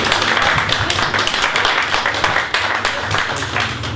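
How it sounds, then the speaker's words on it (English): Audience applause at a writers' forum book launch as a poet takes the stage, dense and steady clapping from many hands, fairly loud and close, lasting throughout without a break. "Big round of applause."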